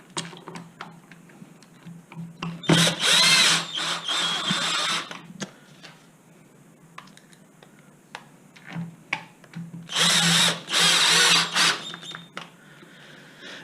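A power drill drives screws into the housing of a Zip X5 gearbox in two loud, close bursts of whirring, with quieter clicks and handling noises between them and no speech.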